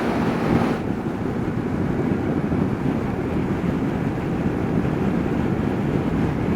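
Steady roaring wind buffets the microphone on a motorbike in the Scottish Highlands near Glencoe, a dense low rumble with gusty surges, loud and close, with no clear voices over it.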